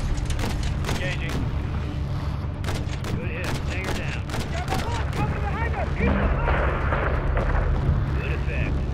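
Missile explosions in the Call of Duty: Modern Warfare III video game, heavy rumbling blasts and crackling gunfire filling a dense, continuous battle din, with voices talking over the chaos.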